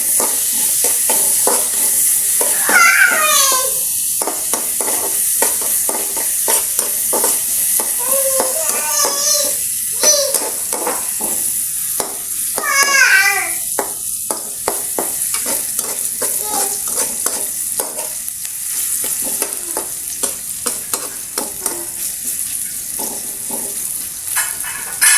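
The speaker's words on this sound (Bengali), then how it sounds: "পেঁয়াজগুলোকে ভালোভাবে আমি ভেজে নেব" Onions frying in oil in a pan give a steady, close sizzle, broken by repeated stirring scrapes, with a voice occasionally heard in the background.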